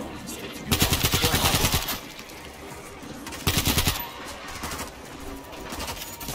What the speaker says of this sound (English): Auto turret, up and running.